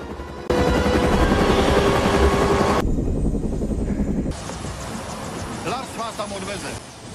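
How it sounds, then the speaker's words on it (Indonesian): A helicopter flying to a camp in Antarctica, its rotor and engine roar loud and steady, cutting out abruptly midway and returning, with voices talking over part of it. "Kate dan rekannya Adam, terbang dengan helikopter ke kamp Norwegia di Antartika."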